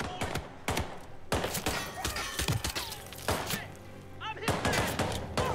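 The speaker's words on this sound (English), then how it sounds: "Stop shooting me!" Gunfire in the video game Hitman 3 VR, repeated close, sharp shots in quick bursts, with game sounds between volleys.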